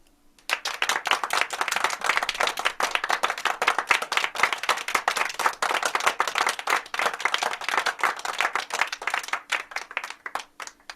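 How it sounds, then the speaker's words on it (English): Canned applause from a webinar system plays loud and dense, a steady crowd of rapid claps running almost unbroken for several seconds before cutting off. "that was about the biggest applause I could give myself on this system"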